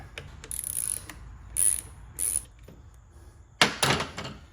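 A ratchet working a 13 mm starter cover bolt loose on a BMW R 1200 GS during a teardown, heard as a few short bursts of ratcheting clicks up close, with a louder final run of clicks near the end.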